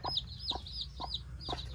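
Chickens cluck in four evenly spaced short calls, soft and fairly close, over a low background rumble.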